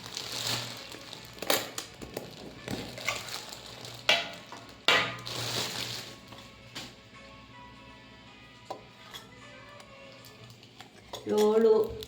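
A masala box holding seven small cups and a spoon is handled at home, with intermittent metallic clinks, lid rattles and scrapes close by, quieter stretches between, and a brief louder clatter near the end.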